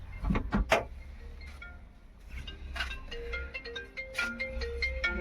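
A mobile phone ringtone plays inside a car during a driving-school comedy scene: a fairly quiet run of short melodic beeps and chimes over low engine rumble, with clunks and rustles mixed in.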